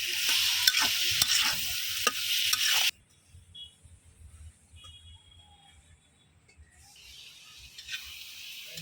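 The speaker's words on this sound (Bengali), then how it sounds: "মশলাটা একদম সবজির সাথে মিশাইয়া ভালোভাবে আমি সবজিটা কষাই নেব এই মশলা দিয়ে" Vegetables for a flat bean and rohu fish curry are stir-fried with spices in a pan: loud scraping and sizzling for about three seconds, then a much quieter, steady sizzle with faint stirring.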